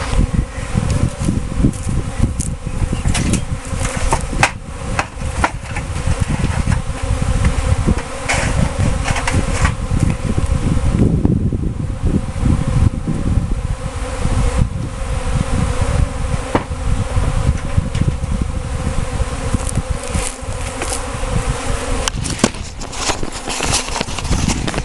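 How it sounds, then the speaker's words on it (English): Honey bees swarm thickly around a hive full of bees, their dense buzzing loud and close, rising and dipping, with occasional faint rustles. "It's chock full of bees."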